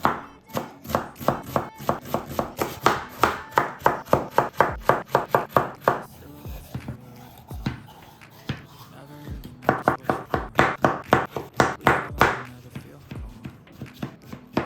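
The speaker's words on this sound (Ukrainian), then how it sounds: "Спочатку нарізаємо наші баклажани." A knife chops eggplants on a cutting board for a buckwheat and vegetable dish. The taps come in close, crisp, evenly paced runs with a short pause midway, and a voice speaks quietly between strokes.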